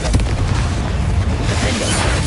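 A booming Confringo blasting-spell explosion from Hogwarts Legacy, loud and close, with a dense low rumble that fills the short moment.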